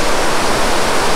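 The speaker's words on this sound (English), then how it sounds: "You could probably hear that water rushing over the rocks" Yosemite waterfall water rushing over rocks, a loud, dense, unbroken roar heard close up, constant from start to finish with no talk over it.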